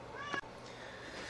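A house cat meows once, briefly, over a steady hum in a quiet electronics repair workspace, the call rising and falling for under half a second before the room settles back to low background noise.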